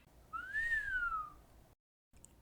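A single person's whistle, one long rising-then-falling tone lasting about a second, clear and close against a quiet background.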